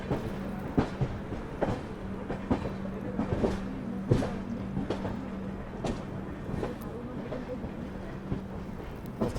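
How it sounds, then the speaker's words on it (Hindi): A train rake being shunted out of the yard onto a station platform, with steady rolling rumble, a sustained low hum, and repeated metallic clicks and clanks at irregular intervals throughout. "उस तरफ आप देखो तो एक और ट्रेन का जो रेक है वो यार्ड से निकाल करके प्लेटफॉर्म पे लगाया जा रहा है।"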